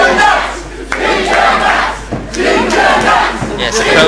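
A large crowd shouts and roars almost without pause at an event, loud and close, with brief dips between surges of cheering.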